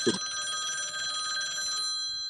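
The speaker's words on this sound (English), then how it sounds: "sounds like you've got another bankruptcy lawyer calling you." A telephone bell rings in an office during a sales consultation. It sounds as one continuous electronic trill for about two seconds, fairly close and clear, and then cuts off.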